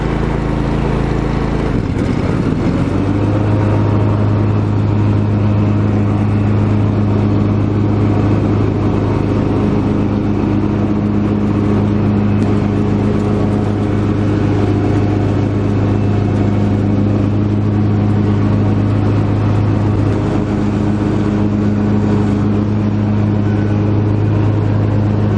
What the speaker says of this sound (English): Turn on the mower deck, put your throttle up,